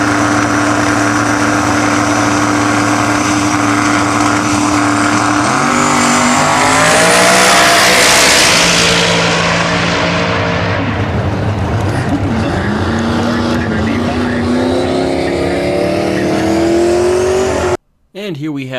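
Powerful turbocharged drag race cars, including a small-block-Ford-powered Fox, roar at full throttle on an eighth-mile strip, revving and climbing in pitch as they accelerate hard, ending in an abrupt cut.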